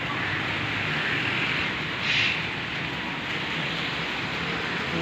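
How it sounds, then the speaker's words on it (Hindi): Rain begins over tin roofs as a steady, close hiss of falling drops, with a brief swell of louder pattering in the middle, no voices over it. "बारिश शुरू हो गई है।"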